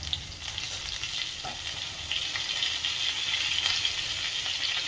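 Crushed garlic, cumin and a pinch of asafoetida sizzle steadily in hot oil. The frying hiss is continuous and close, with faint stirring clinks and no talk.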